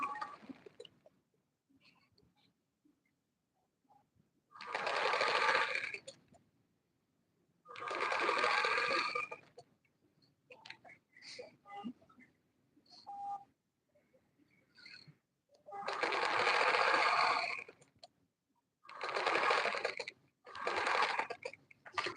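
A sewing machine stitches around the neck of a dress, running in several separate bursts of a second or two each, close and clear, with quiet handling noises in the pauses.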